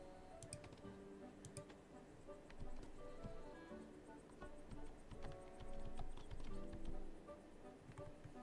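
Light hoof clip-clop of a small horse in a town-building video game, repeated quick taps over a busy layer of game music and ambient effects, no talk.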